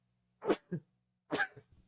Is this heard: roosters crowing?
no